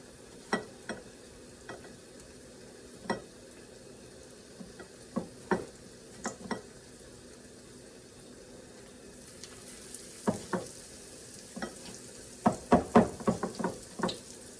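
Battered fish fries in hot grapeseed oil with a faint, steady sizzle, broken up by scattered sharp knocks and clatters, a busy cluster of them near the end.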